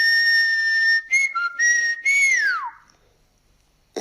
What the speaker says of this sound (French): on va essayer de lui apprendre ce sifflement